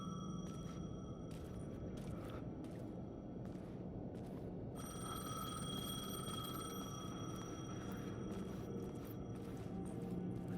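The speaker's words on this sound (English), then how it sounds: "The payphone was ringing." A payphone rings in the video game Alan Wake 2, a repeated electronic ring in steady bursts set over a constant low ambient drone and rumble, fairly faint.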